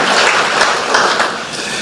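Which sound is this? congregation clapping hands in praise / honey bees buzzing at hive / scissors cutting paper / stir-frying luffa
congregation clapping hands in praise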